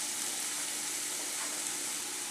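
Potato pieces added to a pan of browned onions for an egg kuruma, giving a dense, continuous sizzle with a loud hiss and no talking.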